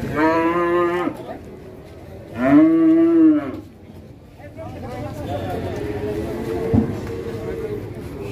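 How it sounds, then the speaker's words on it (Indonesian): A cow that is agitated lets out two loud, drawn-out moos close by, followed by background noise and a faint voice. "Sapi ngamuk guys."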